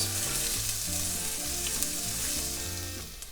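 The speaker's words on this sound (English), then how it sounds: "add half of a diced yellow onion with about 3 cloves of garlic minced. Saute that" Diced yellow onion and minced garlic sautéing in a pan, a steady close sizzle and crackle with faint stirring and a low background hum, no voices.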